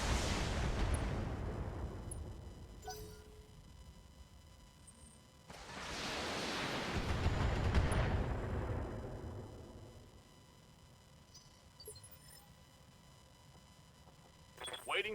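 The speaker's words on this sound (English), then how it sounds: "Firing on target." Weapons fire in the BattleTech video game, two heavy booming blasts several seconds apart with long rumbling decays, over quieter background game sounds.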